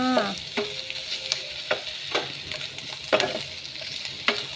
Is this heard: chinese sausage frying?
yes